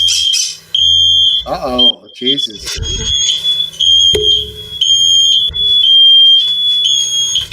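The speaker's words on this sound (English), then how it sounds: "Fire alarms." High-pitched fire alarm beeping steadily and loudly throughout, briefly cut by other tones, while people talk and exclaim over it.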